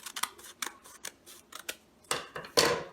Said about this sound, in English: Then you're going to take your scissors